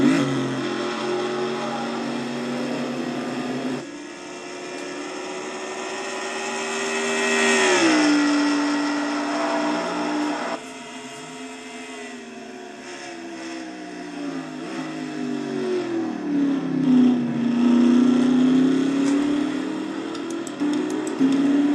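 The engine of a 1990 Oldsmobile race car, Sunoco Ultra number 94, drones steadily in a racing video game, its pitch rising and falling through gear changes and corners over a long, continuous stretch.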